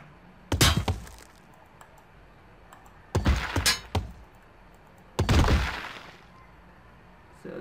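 Glass bottles smashed one after another in the video game Where is My Hammer, three separate loud crashes with short shattering tails, spaced a couple of seconds apart over a quiet background.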